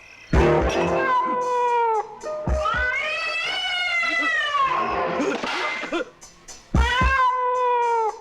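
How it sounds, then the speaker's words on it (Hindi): A cat in a 1990s horror film lets out long, drawn-out, wailing meows, loud and close, in several stretched calls with short sharp cries at the start and end. "उसी बिल्ली की आवाज है।"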